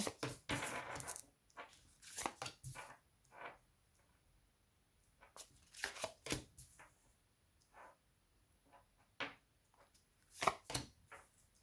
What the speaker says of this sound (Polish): Jeszcze dołożę karty.